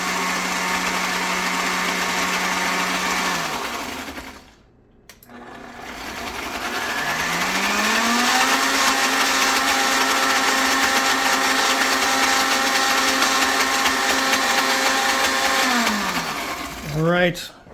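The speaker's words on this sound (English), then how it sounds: "I'm going to blend this up. Start on low. Probably just let it run on low for a minute." A blender runs on low speed, a steady close motor whine that dips briefly, stops, then restarts and settles into a sustained hum before winding down at the end, used to blend mashed potatoes, beef pot roast and gravy.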